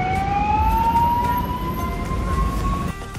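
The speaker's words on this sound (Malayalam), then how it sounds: "ആംബുലൻസ് ഉണ്ട് ഗൈസ്" An ambulance siren wails steadily with a slowly rising tone over loud road traffic rumble, fairly close and continuous throughout.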